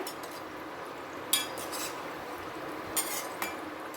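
Stuffed mirchi bhaji fry in a pan over a medium flame and get turned, giving a steady sizzle with a few light metal clinks from the utensil.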